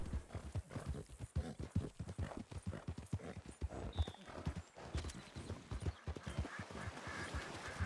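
Steady, rapid hoofbeats of a horse galloping in a video game, a continuous rhythmic clatter throughout, with a brief whinny partway through.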